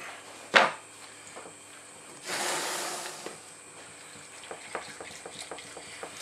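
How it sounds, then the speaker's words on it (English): A spoon stirs a mixture in a hot kitchen pan to work out the lumps. There is a sharp scrape, then a sizzling, swishing stretch of stirring, followed by scattered light scrapes and taps close by. No one speaks. "And just stir it up so there's no lumps."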